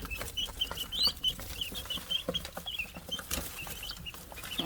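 Young chicks in a brooder peep continuously in quick, high overlapping cheeps, close and fairly busy, with light rustling and a few bumps underneath and no talking.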